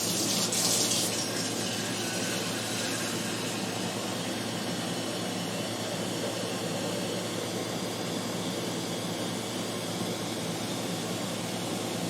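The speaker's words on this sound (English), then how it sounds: "now we're going to fill this up again with just water and then pour that in" Water pours steadily into a tea pitcher, a continuous rushing, splashing flow that is close and loud from start to finish.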